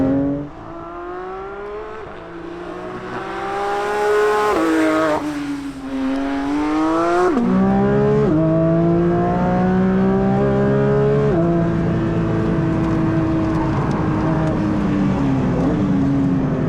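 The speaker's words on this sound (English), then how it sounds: "I'll let you listen to the beautiful exhaust note for these first few laps" A 2024 Porsche 911 GT3 race car roars steadily at high revs on track, the exhaust pitch rising and dropping as it shifts gears and brakes through corners, loud and continuous.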